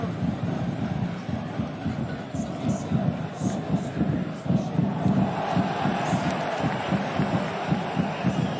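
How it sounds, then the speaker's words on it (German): Supporters in the St. Gallen fan block at a Swiss Super League match against Grasshoppers make a dense, steady stadium roar with a rhythmic pulse, loud and continuous throughout. "Applaus aus dem St. Gala Fanblock"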